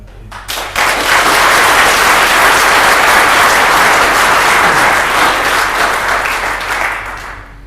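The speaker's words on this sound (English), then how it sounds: "So give applause." A summit audience bursts into loud, sustained applause that starts abruptly, holds dense and even for several seconds, then fades slightly at the end.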